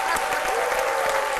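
Studio audience clapping on an RTI 1 television show, a brisk, steady burst of applause from a live crowd, close and loud for the whole short stretch.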